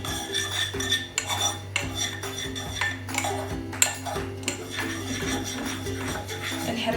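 A spoon stirs in a casserole pot holding mayonnaise and a spoonful of oil, scraping and clinking against the metal in busy, uneven strokes over a low steady hum.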